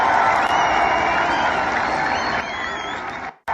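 A huge crowd of around 120,000 at a street rally in Hamburg, Germany, in support of Ukraine, roaring and applauding in a steady, dense wall of cheers that runs nearly unbroken before cutting off abruptly near the end.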